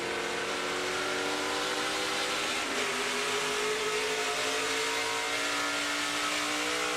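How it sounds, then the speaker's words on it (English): A NASCAR Craftsman Truck Series race truck at Milwaukee Mile, engine roaring through a corner with a gear shift as revs drop, a sustained loud mid-pitched drone that dips then climbs again. "Sure sounded like Grant Enfinger shifted."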